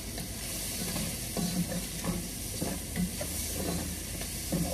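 Harira soup being stirred in a pot, a steady hiss of simmering under soft, repeated scrapes and knocks of a spoon moving through the thick soup, close and with no talking.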